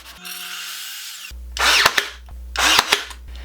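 Power sanding of a wood piece for an obelisk garden trellis: two loud, close, rasping bursts of a handheld power tool follow a quieter motor whir, with no talk.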